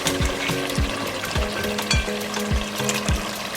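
Meat goes into a Nigerian efo riro vegetable soup sauce that has simmered for about half an hour. A close, steady sizzle and bubbling runs under a regular scraping stir that repeats about every half second.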